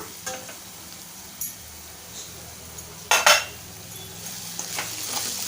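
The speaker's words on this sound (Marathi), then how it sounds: "आपण आता झाकण उघडूया" A metal lid clanks sharply as it is lifted off a pan of vegetables cooking for spicy masala noodles, with a few light clinks of utensils around it over a soft background sizzle.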